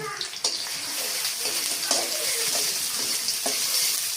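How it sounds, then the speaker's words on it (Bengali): Bay leaves and garam masala fry in soybean oil in a pan for a home-style chicken curry, a steady bright sizzle running throughout with a few sharper stirring clanks. "দিয়ে এবার এগুলো আমি ভেজে নেব"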